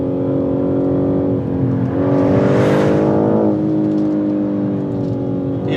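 A 2021 BMW M3 Competition engine revs with a metallic, musical tone, a steady loud drone rising in pitch to a peak midway, then settling back, close and with no talk.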